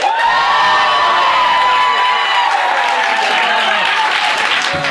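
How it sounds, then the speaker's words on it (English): A live talk-show audience votes with loud applause, cheering and whoops, a dense roaring crowd with shrill high shouts rising over sustained clapping for the whole stretch. "We're gonna vote by round of applause."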